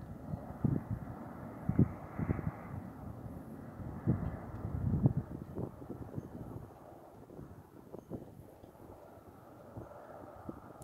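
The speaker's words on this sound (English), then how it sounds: "an airplane is just flying out. It's just flying outside" A distant airplane drones faintly overhead on a cloudy night under a full moon, a soft low rumble mixed with gusty wind noise on the microphone, fading toward the end.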